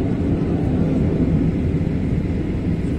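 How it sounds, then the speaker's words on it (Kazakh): An airplane taxis at an airport, a loud, steady, broadband engine rumble heard close and continuous throughout, with faint indistinct voices underneath. "біздің самолетқа орын табылбай жатады ұқсайды"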